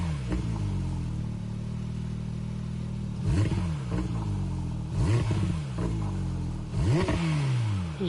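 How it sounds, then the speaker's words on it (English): A Porsche GT3 race car in Gran Turismo 7 revs hard and alone, its engine note climbing through repeated upshifts in quick succession, each gear change marked by a sharp drop and renewed rising howl. "The sound of this one, this is what a GT car is supposed to sound like."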